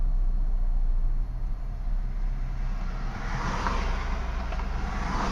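A 2011 Ford Fusion 3.0L engine runs loud and steady under throttle, a broad droning rev that dips briefly and then holds, with no talking over it.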